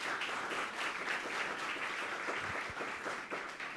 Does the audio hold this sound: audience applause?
yes